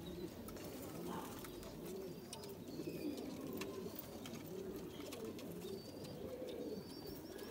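Kasuri pigeons of the red-eyed sebe-wale chine breed coo in a soft, continuous throaty murmur from nearby, with a few thin chirps from other birds behind.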